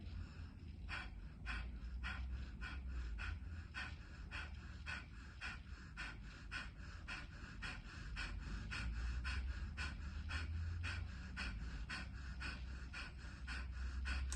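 Rhythmic yoga breathing exercise, a rapid steady series of forceful exhales and inhales repeating about twice per second, close and fairly quiet, with no talking over it.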